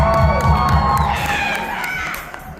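A Comic-Con crowd in Albuquerque cheers and shouts loudly, with children's high-pitched yells standing out as the roar gradually tapers off.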